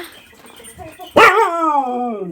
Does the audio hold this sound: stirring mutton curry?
no